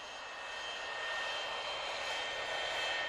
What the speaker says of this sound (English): It's Jeremy the jet plane.